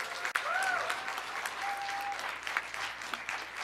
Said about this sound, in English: Could everyone please give Karina a huge round of applause?